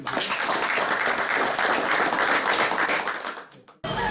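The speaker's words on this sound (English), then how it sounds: "So can we give 10 claps for Calvin and his team, please?" An audience applauds Calvin and his team with dense, loud, sustained clapping that fades out near the end.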